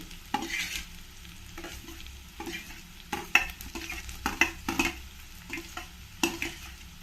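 Pre-fried bitter gourd stirred into softened onions frying in a pan for a rice dish, spatula scrapes and metallic clinks repeating every second or so over a faint sizzle, close by.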